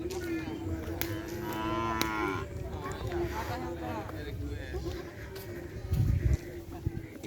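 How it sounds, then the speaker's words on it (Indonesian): Cattle moo at a kerapan sapi bull-racing field in Asemanis, with a drawn-out, nearby lowing call and a thump near the end while people talk throughout. "ada sapi juga guys."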